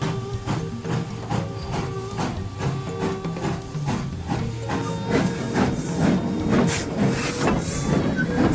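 Steam locomotive No. 482 works hard up a grade with loud, regular exhaust chuffs and hissing steam over clanking machinery, close and continuous with no talking.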